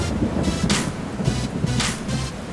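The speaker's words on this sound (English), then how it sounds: "Man, that was a lot of rain." Heavy rain pours onto a backpack outdoors in a dense, steady roar of broadband hiss, with brief louder gusty surges throughout.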